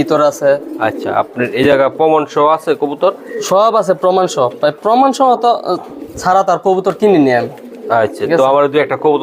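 Racing pigeons coo in low, throaty, repeated calls close by, blending with people talking over them throughout.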